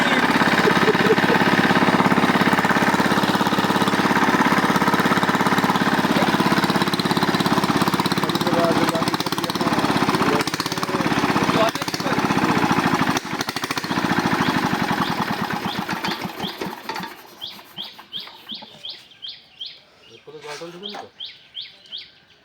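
A small irrigation water pump engine runs beside a pond while watering crops, a loud, steady, chugging drone that holds for most of the stretch, then fades and sputters out as birds chirp nearby.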